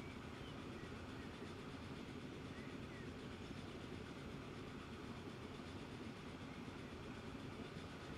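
Trains running on a busy network in the video game Transport Fever 2, a steady low rumble with faint rhythmic clatter that holds evenly throughout, quiet and distant.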